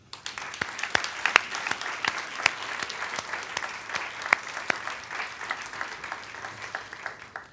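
At a Université du Québec 2010 awards ceremony, an audience applauds the excellence prize laureates with steady, sustained clapping from many hands throughout.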